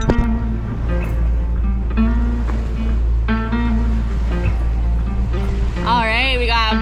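A sailboat under way after raising both anchors, with a steady low rumble of water and wind beneath close conversation that runs almost throughout.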